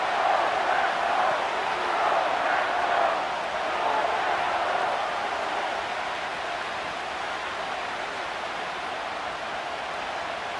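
A stadium crowd roars in a Madden NFL 25 simulation of Commanders versus Packers, a broad, steady wash of noise that swells early and then holds at a slightly lower level.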